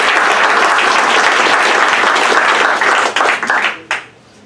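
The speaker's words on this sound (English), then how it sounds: "big round of applause from Bill and Ecovolt." A crowd applauds at a startup founder pitch graduation event, loud, dense and sustained clapping that breaks up into a few scattered claps and fades out at the end.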